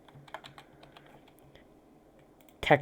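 Computer keyboard typing in quiet succession, a series of faint, sparse clicks while entering a texture name, followed by a sharp louder clatter at the end.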